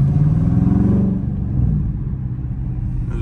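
A semi truck pulling out into traffic, heard from inside a loud Scat Pack car: a heavy, steady low engine rumble that is loud and close throughout, easing slightly after the first second, with no talking.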